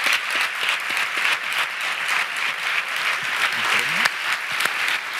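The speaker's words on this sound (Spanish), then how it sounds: "Fuerte aplauso para Albert." Dense, steady applause from a crowd, many hands clapping continuously at close range for several seconds.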